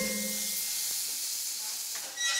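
Bacon frying in a pan, a steady bright hiss and sizzle that stays continuous and fairly close throughout, with no voices.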